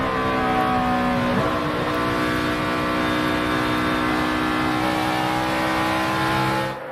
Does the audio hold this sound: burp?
no